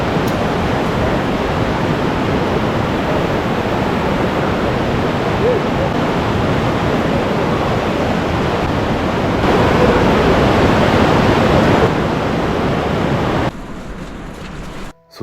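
A river rushes through the world's largest cave with a loud, dense, unbroken roar of water that holds close and steady and drops off sharply right at the end.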